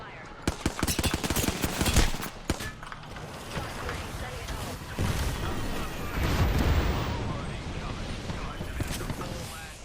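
Rapid automatic gunfire and scattered shots crackle through a firefight in the battle royale game Apex Legends, with bursts clustered early and denser rolling fire later, close and loud throughout the clip.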